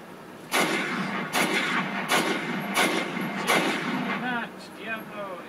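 G43 rifle firing 198-grain M75 Yugoslavian sniper ammunition, five loud booming shots at roughly even intervals, each with a lingering echo over steady background noise, ending in faint ringing tones.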